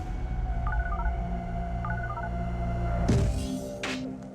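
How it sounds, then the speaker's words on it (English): Phone number being dialed, two short bursts of beeping tones over a low steady hum, followed by a couple of brief clattering noises. "He throws the gun across the room, picks up his phone, and dials the number of Special Agent Force."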